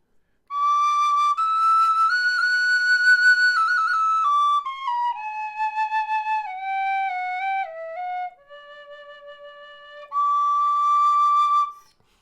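A low or high tin whistle plays a clear, pure melody up close, with held notes stepping down in pitch, a short pause, then a final phrase, and no voice.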